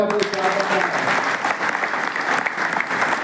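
An audience applauding an organiser at an awards ceremony, dense continuous clapping from a crowd, loud and steady, with a voice briefly audible at the start.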